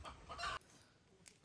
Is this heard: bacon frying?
no